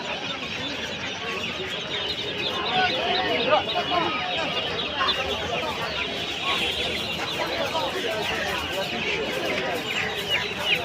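Chickens clucking in a busy poultry market, with dense, overlapping clucks and squawks from many birds nearby and crowd voices talking underneath throughout.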